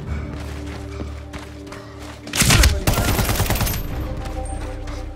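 Bursts of gunfire from the video game Medal of Honor, a loud dense volley erupting midway after quieter background, with rapid repeated shots continuing to the end.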